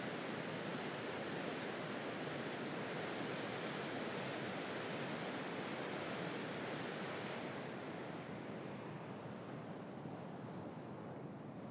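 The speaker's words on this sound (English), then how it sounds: "The water from here starts to head downhill quite rapidly as the terrain drops away" Rushing river water on the Muskegon River where the terrain drops away steeply, a steady, dense, full-band roar that holds constant throughout, close and loud with no voices.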